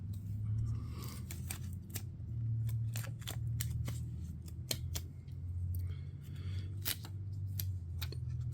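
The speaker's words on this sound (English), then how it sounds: "It's me getting some tape loose." Tape is pulled loose in a series of crisp tearing and crackling bursts, loud and close, over a constant low hum, with no voices.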